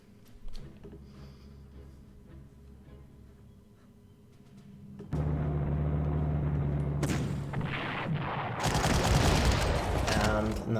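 Artillery bombards enemy positions in the Panzer Corps war game: a low, quiet opening gives way to heavy booming blasts and rumbling, growing denser and louder with overlapping explosions toward the end.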